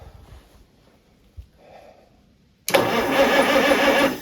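A wheel loader's engine catches after a couple of quiet seconds and roars loud and close into a steady, rough run.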